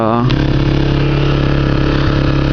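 Kawasaki Ninja 250 motorcycle with a 250cc engine idling steadily up close, a loud continuous engine drone with a brief rise near the start.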